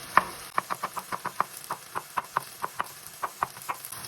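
Knife finely chopping garlic on a board for a Turkish meat sauté, a quick, steady run of crisp knocks at an even rhythm, close and clear with no talk.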